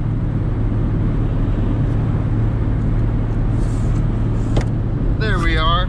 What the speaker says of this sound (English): So I am driving this car and it does look like it needs airbags